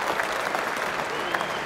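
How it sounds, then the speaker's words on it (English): Steady crowd applause at Lord's cricket ground as batsman Brian Lara walks off, a dense, even wash of clapping throughout with no voices standing out. "let's listen to the applause he gets as he leaves the ground, probably for the last time"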